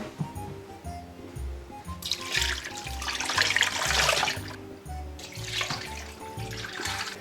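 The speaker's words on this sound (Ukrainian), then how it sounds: "та заливаємо водою." Tap water runs into a multicooker pot holding meat, carrot and onion for aspic, a close splashing rush that swells in two bursts over a steady low hum.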